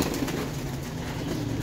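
A rescued bird, apparently a pigeon or dove, gives soft low cooing calls close by over steady background noise, brief and without talk.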